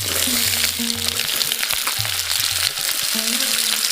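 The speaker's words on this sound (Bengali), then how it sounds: "এবার সবজি চাপিয়ে দিচ্ছি এবার আমি এই সবজিগুলো একবারেই কষিয়ে নেব" Potatoes and mixed winter vegetables frying in a pan make a steady, loud, close sizzle that holds throughout, with a faint low hum running underneath and no voices.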